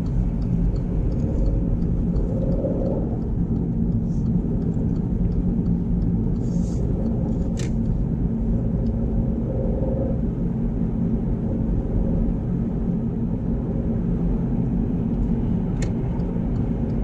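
Steady low rumble of a car driving on a road during a driving test, heard from inside the vehicle as continuous road and engine noise with faint clicks.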